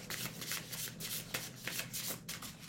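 Tarot cards being shuffled by hand for a two-card draw, a continuous close riffle of papery flicks and slides with rhythmic bursts, no talking.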